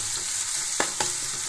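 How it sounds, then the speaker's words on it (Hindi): A tadka of cumin, garlic, onion and chilli frying in hot oil, giving a steady close sizzle with two brief stirring scrapes partway through. "अब तड़का भूनते हैं थोड़ा सा।"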